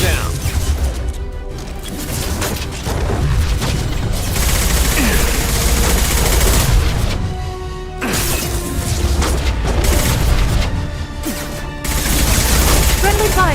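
Heavy gunfire and impacts in the Mass Effect 2 video game: loud, near bursts of weapon fire with crashing booms, and character voices talking throughout.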